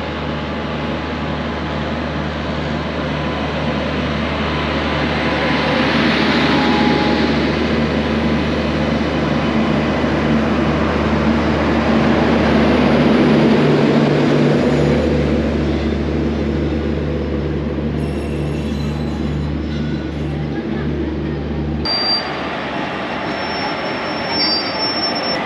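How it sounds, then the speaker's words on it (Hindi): Avantika Express train arriving at a station in India, a loud sustained rumble of rolling railcars with squealing wheels that continues steadily throughout, with no talk. "और अब ये अराइवल इसका होने वाला है जो है अवंतिका एक्सप्रेस"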